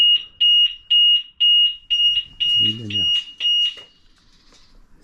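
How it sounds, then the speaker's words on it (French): A loud, high-pitched electronic motorcycle alarm beeps in a rapid repeating pattern close by, and someone briefly speaks over it before it stops. "ça c'est l'alarme de la moto"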